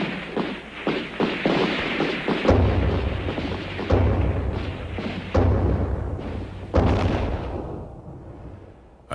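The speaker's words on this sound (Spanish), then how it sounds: "Inmediatamente suena un disparo" A gunshot rings out during a 1937 march in Ponce, Puerto Rico, followed by heavy, booming thuds and blasts of gunfire, loud and echoing in repeated bursts over several seconds with a shuffling background.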